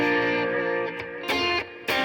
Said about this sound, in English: And I add my distortion thing, take off my compression